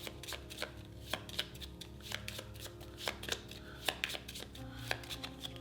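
A discard pile of Ark Nova board game cards is shuffled in a quick run of soft, crisp riffling flicks, close and quiet, with no talking.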